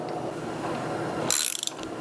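A ratchet working bolts during the bottom end breakdown of a 6.2L diesel engine rebuild: a short, quick burst of close metallic clicking that stands out sharply over a low background hum.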